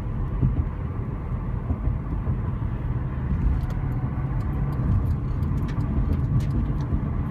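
A car accelerates onto a New Jersey highway, heard from inside as a steady, dense rumble of engine and road noise that holds evenly throughout, with faint light ticks above it and no voices.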